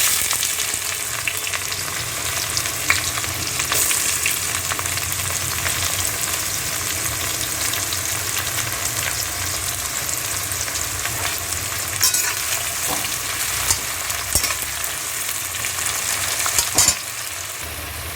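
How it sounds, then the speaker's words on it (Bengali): Onions frying in hot oil in a pan with tempering spices, a dense continuous sizzle with small crackles and occasional stirring scrapes, heard close and alone without talk. "পেঁয়াজটা লাল লাল ভাজা হয়ে গেছে।"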